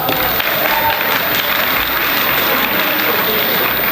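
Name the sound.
applause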